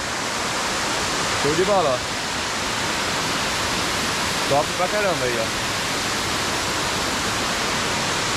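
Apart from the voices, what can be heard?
Salto do Sessenta waterfall in Botuverá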